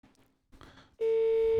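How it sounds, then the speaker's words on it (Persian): A telephone rings. A couple of soft brief sounds come first, then a loud, steady electronic tone holds to the end. "توی این هیری ویری که داره تلفنم زنگ می‌خوره"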